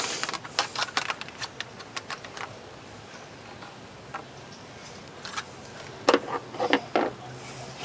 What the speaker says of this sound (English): just going to be another couple of cuts with these heavy duty scissors from the 99-cent store